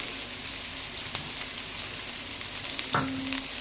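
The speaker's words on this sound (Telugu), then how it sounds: "దీన్ని మంచిగా కలిపేసుకోవాలి ఒకసారి. ఇది కొంచెం వేగాలండి." Onion, carrot and capsicum stir-fry in a couple of spoons of oil for veg hakka noodles, producing a close, continuous frying crackle with scraping stirs and a brief clatter near the end, with no voices.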